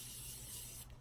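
Morphe setting spray released as a fine mist in one steady, close hiss lasting almost a second before cutting off abruptly.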